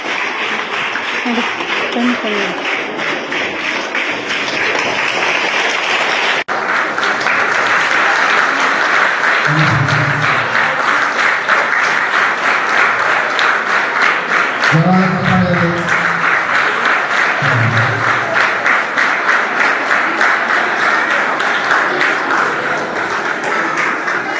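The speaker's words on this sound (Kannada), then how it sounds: "ಅವರಿಗೆ ಒಂದು ಜೋರಾದ ಚಪ್ಪಾಳೆ ಇರಲಿ" Sustained loud applause from a crowd at a residential school function as parents come up, continuous dense clapping for over twenty seconds with an announcer's voice speaking over it at moments.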